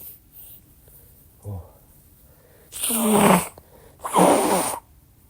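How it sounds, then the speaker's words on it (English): Two forceful, wet nasal blasts a second apart, close by, after a quieter sniff, like someone blowing their nose into a tissue. "I gotta blow my nose."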